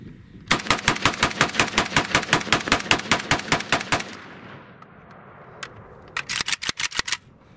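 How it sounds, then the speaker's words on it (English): A Romanian Draco AK pistol fed from Korean AK-47 magazines fires a long rapid string of loud, sharp shots, then after a pause a single shot and a second short quick burst. "Let's run out of the Romanian Draco."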